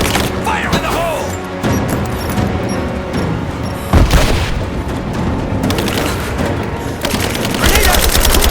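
Grenade blast and gunfire in the Rise of the Tomb Raider video game: a heavy boom lands midway through dense, continuous combat noise with rapid shots and crashes, and voices shout over the fighting.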